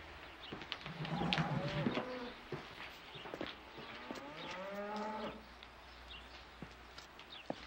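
A cow moos on a farm, a drawn-out low call that is repeated, heard at moderate distance with insects buzzing around and faint voices in the background.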